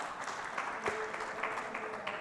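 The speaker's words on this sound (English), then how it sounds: "A huge round of applause, ladies and gentlemen." Faint, even applause from a conference audience thanking a panel at a solar energy session, distant and continuous with a few louder claps standing out.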